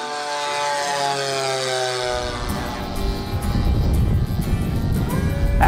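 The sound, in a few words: warbird propeller airplanes flying at an air show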